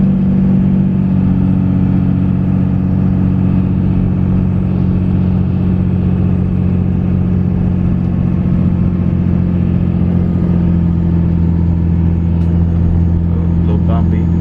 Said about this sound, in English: Just cruising along about 1900 RPMs right now.